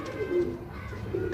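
Pigeons on a rooftop give low, droning coos, a continuous murmur with a few swelling calls, close and moderately quiet, with no talk heard.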